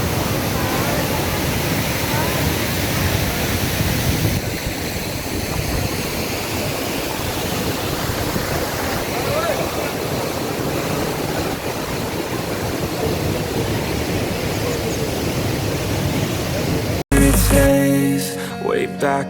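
The Soochipara waterfall in Wayanad gives a loud, continuous, broadband roar of falling water that fills the scene for most of the time, before a brief, louder jumble of handling noise near the end.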